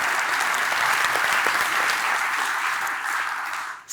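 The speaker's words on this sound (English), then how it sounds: "Huge round of applause for Attila and also the 12 winners as well." A conference audience at an innovation talks event gives a loud, sustained round of applause for a speaker and twelve award winners, steady dense clapping that fades near the end before a brief sharp burst.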